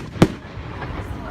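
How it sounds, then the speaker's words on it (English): A single sharp firework bang cracks nearby at a bonfire night celebration, followed by a rumbling outdoor crowd and faint distant pops. "I thought it was the end of the fireworks, but no."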